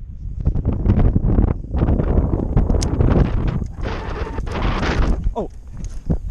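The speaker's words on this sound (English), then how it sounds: "Sorry if you can't hear me because of the wind." Strong wind buffets the microphone outdoors beside a Texas pond during bass fishing, a loud continuous low rumble with gusts that swells and dips throughout.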